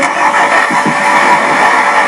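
A heavy articulated truck engine from the driving game Euro Truck Simulator 2 drones steadily and evenly throughout, a constant mid-pitched hum with no pauses.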